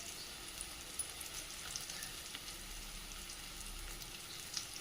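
Spices sauté in oil for a cauliflower curry, making a faint, even sizzle with a few small ticks and pops and no other activity.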